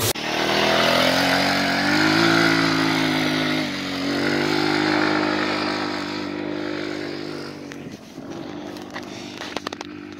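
A Massimo GKA200 go-kart engine drones and revs as it drives through an alfalfa field, its pitch rising and falling with throttle before easing off toward the end, with a few light knocks.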